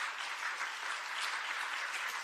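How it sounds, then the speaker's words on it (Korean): An audience at a Korean lecture bursts into loud applause on request, a dense wash of clapping heard fairly faintly and evenly over two seconds with no voices. "큰 소리로 거기 박수 한번 쳐요"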